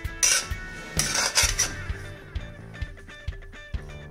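Chickpeas being stirred in a metal pan over a medium flame, a spoon scraping and knocking against the pan in a steady rhythm of sharp clinks, with a brief rustle of food between strokes.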